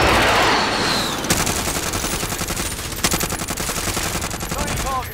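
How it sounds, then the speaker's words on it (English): Video game gunfire rattles in long, loud automatic bursts that go on for several seconds, with sharper shots standing out near the middle and a sniper exchange somewhere in the match. "Oh, I hear the bullets."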